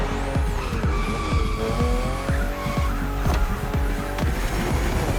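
A BMW M2/M4 races along a narrow road with sharp bends in the video game The Crew Motorfest. A loud engine whines continuously, punctuated by repeated tire squeals and skids at a fairly regular rhythm.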